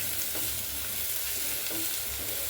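Beef for a pepper beef roast frying in a pan, giving a steady, dense sizzle with faint stirring scrapes, close and continuous throughout.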